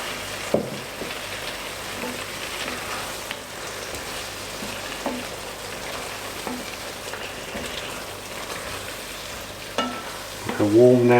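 Peppers frying in a pan for ratatouille after the heat is turned down, a steady crackling sizzle with occasional stirring knocks and utensil clinks, louder scraping near the end, no voices.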